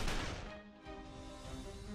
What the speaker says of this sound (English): I hear the sound of gunfire.